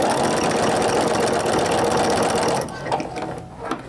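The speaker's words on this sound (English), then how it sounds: "you can get everything under the sewing machine" Sewing machine runs steadily for over two seconds, stitching oven mitt fabric, then stops, leaving quieter handling clatter.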